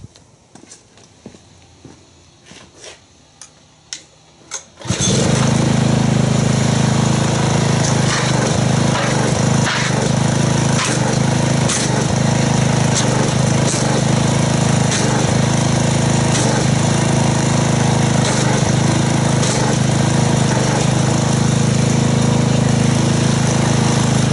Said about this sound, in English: Let me get the pressure washer and let's see what kind of foam we get.